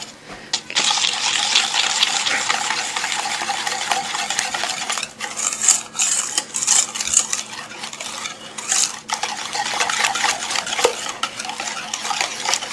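A whisk beats chocolate lava cake batter in a bowl with a steady, close scraping and clinking that runs almost the whole time, briefly pausing twice.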